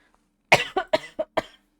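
A person gives a close, fairly quiet fit of coughing: five short, sharp coughs in quick succession, the first strongest, then silence.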